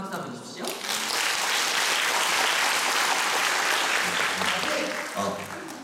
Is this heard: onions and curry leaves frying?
no